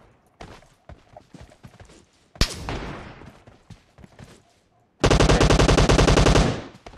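Gunfire in the mobile battle game PUBG Mobile: scattered light clicks, then a single loud shot with a ringing tail, and later a dense, sustained burst of rapid automatic fire lasting over a second.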